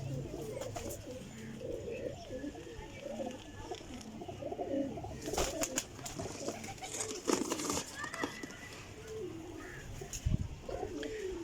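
A female golden Jaunsiri pigeon coos in repeated low, burbling phrases among other birds, with occasional sharper knocks and wing or handling noises breaking in.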